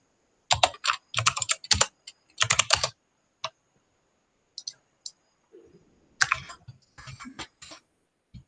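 Keys clatter on a computer keyboard as a command is typed on a client PC during a DNS and Group Policy setup task, with quick bursts of clicking, pauses, then a final flurry of keystrokes.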